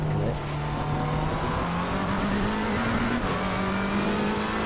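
A McLaren GT race car in Assetto Corsa Competizione on PS5, racing in wet weather, its engine droning steadily at a high, slowly rising pitch, with faint tyre and track noise and a possible voice low underneath.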